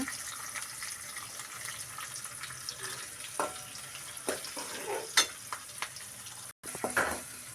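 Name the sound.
curry leaves, shallots and dried chillies sautéing in pan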